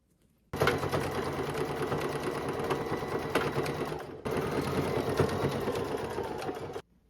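Sewing machine stitches a seam across a skirt waistband, running in two steady whirring bursts with a brief pause between them, close and loud with no talking.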